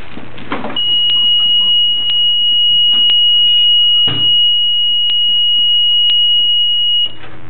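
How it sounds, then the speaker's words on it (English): A baby warmer's temperature alarm sounds a continuous high electronic tone with brief sharper clicks roughly each second, loud and steady, with faint room rustling underneath. "it's only the alarm of the warmer"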